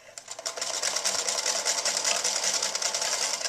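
A sewing machine runs in a quick steady burst, its needle chattering rapidly as it back-stitches through a knitted steek, close and clear with no talk.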